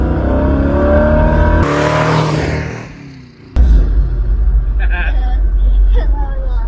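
A barn-find 1968 Ford Mustang GT cruising through a park, its engine droning loudly and close with a shift of tone midway, under people talking.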